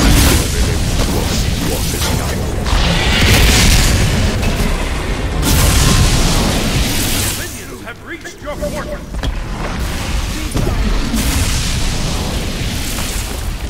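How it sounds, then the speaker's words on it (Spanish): Fireworks boom in the air during a match of the video game Smite, loud rumbling blasts and pops rolling almost continuously, with a voice talking over the game sound. "Esos fuegos que hay en el aire, ¿cómo los sacan?"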